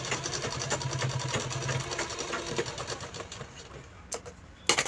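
Sewing machine running slowly while putting a dark stitch along fabric, a steady close mechanical whir with repeated needle ticks that eases off toward the end before a few louder clacks.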